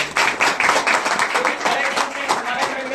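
An audience at an inter-college gathering claps for a top-scoring student, a brief burst of close, crisp handclaps with voices talking over it.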